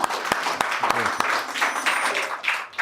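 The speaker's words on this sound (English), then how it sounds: "Round of applause, everybody." An audience at an AI meetup gives a short round of applause, a scattered patter of claps with a few sharp distinct hand slaps and a brief voice near the start.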